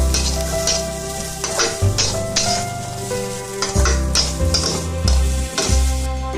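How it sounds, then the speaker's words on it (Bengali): Onion, garlic and green chili being dry-roasted and stirred in a dry wok-style pan, loud close scraping and rustling strokes repeating in a steady rhythm over a continuous low hum, with no talking. "পেঁয়াজকে শুকনো কড়াইতে নেড়ে নেব"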